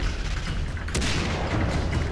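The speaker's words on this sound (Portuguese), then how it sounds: "Deixa eu mandar de trocar de arma aqui, pegar a sniper e vou acertar eles" A single sharp sniper rifle shot in the shooter game Far Cry 3 cracks out about midway, set against a steady, dense wash of in-game background noise.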